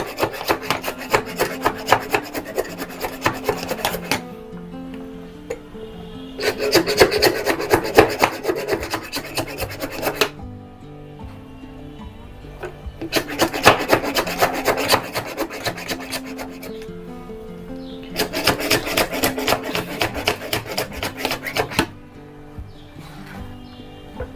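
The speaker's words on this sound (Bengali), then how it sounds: "রসুন প্রায় হয়ে গিয়েছে, আর একটু ক্র্যাশ করি।" About 200 grams of garlic being crushed for a green mango pickle, a rough, raspy grinding and scraping in rhythmic bursts of several seconds, each followed by a short pause, close and fairly loud.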